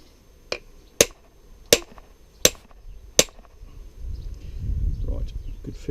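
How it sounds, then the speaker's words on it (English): A bigger hammer strikes the head of a rusty cross pein forging hammer under restoration, five sharp ringing metallic blows about a second apart, followed by softer shuffling and handling noise. "Right, let's find a bigger hammer."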